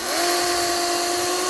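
A Ryobi 20-inch 40V HP battery chainsaw runs at a steady, high, even whine, close and loud, holding one pitch after a quick spin-up.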